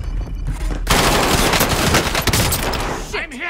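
Automatic gunfire in Call of Duty: Modern Warfare blasts in loud, dense bursts nearly throughout, with voices heard around the shooting.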